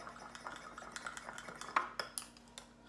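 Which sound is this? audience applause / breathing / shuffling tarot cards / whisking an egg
whisking an egg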